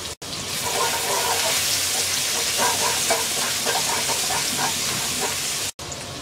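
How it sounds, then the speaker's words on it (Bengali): Chopped ginger dropped into hot sesame oil in a pan sizzles with a loud, continuous bright hiss that holds steady for several seconds, with a brief dropout near the start and the end. "তেলটা গরম হয়ে গেছে, দিয়ে দিচ্ছি 1 টেবিল চামচ আদা কুচি,"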